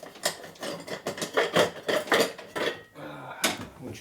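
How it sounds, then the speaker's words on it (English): A rough honing stone working inside a Harley-Davidson 1200 Sportster cylinder, giving rhythmic metallic scraping strokes in quick repeated bursts, close and fairly loud, with a short pause near the end. "We're going to hit it with a rough stone first again."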